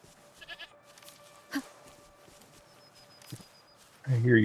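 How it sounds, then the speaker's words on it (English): A goat bleats in the video game Wuthering Waves, a short call near the end rising over quiet ambient game sounds and faint footsteps. "I hear you, goat."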